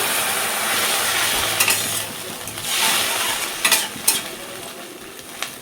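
Lentils frying in a kadai while being stirred continuously, a steady, close, broadband sizzle broken by repeated scraping strokes of a spatula against the pan, with no talking.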